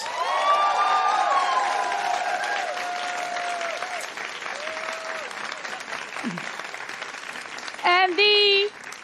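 Audience clapping and cheering for the organizer of a food systems innovation challenge at an award ceremony; sustained applause with a few whoops, voices heard over it, and a brief musical tone near the end.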